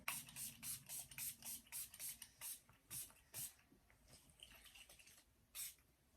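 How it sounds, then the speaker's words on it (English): A rapid series of short, hissing bursts from a makeup setting spray, about a dozen quick pumps, then a few more spaced out, close and fairly quiet. "Let's finish it off with some setting spray."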